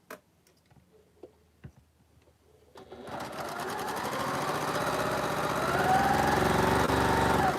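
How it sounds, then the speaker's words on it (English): A sewing machine stitching quilt squares together for a double carpenter's star quilt, starting after a few faint handling clicks and then running in a steady, loud, close mechanical whir. "I'm going to sew these together as I go"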